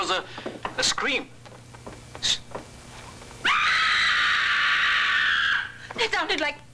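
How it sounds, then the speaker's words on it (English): A woman screams in a film, one sustained, loud, piercing cry lasting about two seconds between stretches of dialogue, with people talking before and after it. "That was a scream."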